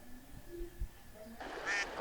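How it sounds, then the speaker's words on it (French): A few soft duck quacks, nasal and close, over a quiet outdoor background with faint rustling. "c'est les canards."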